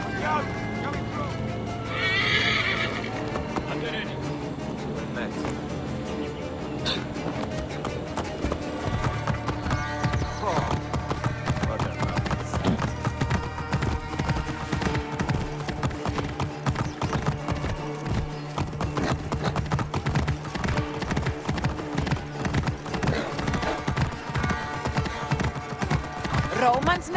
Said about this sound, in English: I should find a horse.